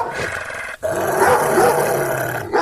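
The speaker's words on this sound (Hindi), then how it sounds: "उन पर भौंकने लगता है" A dog growls and barks in a steady, rough stream over a noisy background, with a brief pause partway through.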